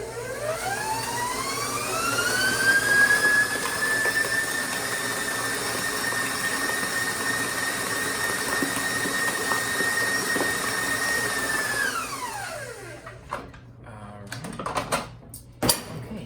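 Electric stand mixer spins up, whirs steadily at medium speed beating vanilla cupcake batter for about twelve seconds, then winds down to a stop, followed by a few light clinks.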